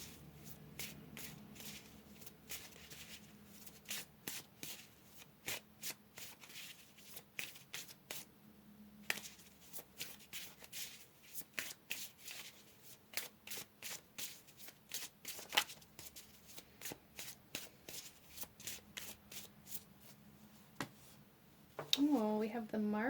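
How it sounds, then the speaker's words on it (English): Tarot cards being shuffled and drawn from a deck, rapid irregular riffling and flicking bursts over a long stretch, close and quiet, ending with a louder rustle. "Let's go ahead and pull another card here"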